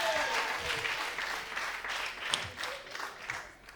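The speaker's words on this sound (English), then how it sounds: "Clap it up for yourself." Audience applause swells and ebbs in a steady, fairly close patter of many hands, with faint voices mixed beneath.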